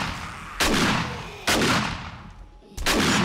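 Gunfire in the video game 7 Days to Die: three loud, separate shots spaced about a second apart, each with a long, fading echo.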